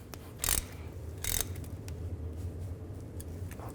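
Ratchet tightening the rear differential fill plug on a 2000-08 GMC Yukon, giving two short loud bursts of clicking followed by quieter mechanical ratcheting, close up in a workshop.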